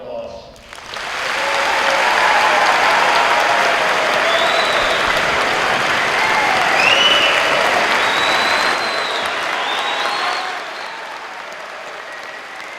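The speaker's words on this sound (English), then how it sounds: "please join me in showing our appreciation as we recognize our military's newly commissioned officers with a round of applause" Sustained audience applause for newly commissioned military officers at a joint ROTC commissioning ceremony, rising quickly to a steady, dense clapping that holds for several seconds before easing slightly near the end, with faint voices in the crowd.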